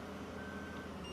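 Vehicle reversing beeps in Farming Simulator 15, a steady tonal beep over a low truck engine rumble, moderately faint and continuous.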